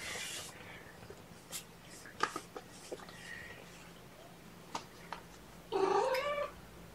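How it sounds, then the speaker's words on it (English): Cat in a hallway giving a short, fairly loud meow near the end, after scattered faint taps and household noises. "I hear Beatrice or Nikita out in the hallway meowing for me."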